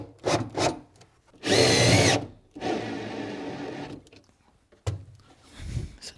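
A power drill drives screws into wood while a router table is being built. Several short bursts of whirring stop and start, with the longest in the middle, close by and alone.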